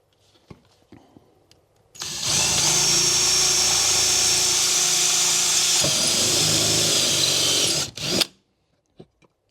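A power drill fitted with a 5mm bit enlarges 4.5mm holes in metal, whirring steadily for about six seconds, loud and close, starting and stopping abruptly with faint clicks before and after.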